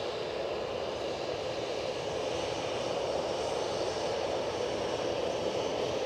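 A Brussels Airlines airliner at Edinburgh airport roars past at a steady, loud level, its broad engine rumble filling the whole stretch without voices.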